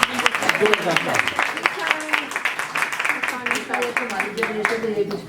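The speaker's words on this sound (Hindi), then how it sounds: "एक बार जोरदार ताली बजाइएगा प्लीज, जोरदार ताली" An indoor audience at a workshop on senior abuse breaks into applause at the host's request, a dense patter of many hands clapping close and fairly loud, with voices mixed in.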